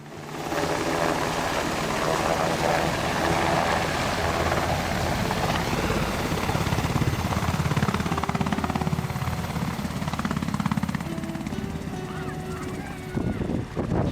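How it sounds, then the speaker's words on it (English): A Black Hawk helicopter landing in a field, its heavy rotor thump and engine roar continuous, loud and close, with crowd chatter mixed underneath. "watched as the Black Hawk helicopter landed in the field."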